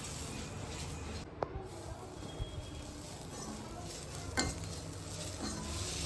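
Sliced onions sizzle and crackle steadily in a pan while being cooked for a lentil dumpling curry, a quiet continuous frying hiss with occasional clinks of stirring.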